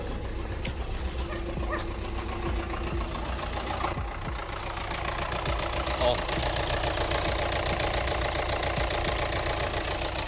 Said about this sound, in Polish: Chyba już nawet słychać jak chodzi. Jakby ktoś młotków nawrzucał w silnik.